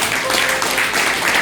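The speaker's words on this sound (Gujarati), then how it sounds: "તાળી પાડી આપો." Congregation clapping during a church service, a dense, steady wash of applause throughout, fairly loud and close, with faint voices mixed in.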